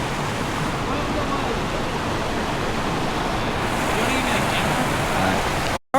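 Continuous broadband rush of a shallow creek flowing nearby, steady and fairly loud throughout with no voices, ending with a brief handling cutout.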